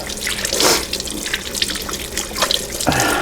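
Running tap water splashes over hands being washed at a kitchen sink, with uneven bursts and drips as the hands move through the stream; close and fairly loud.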